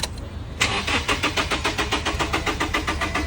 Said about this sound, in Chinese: 我现在打火啊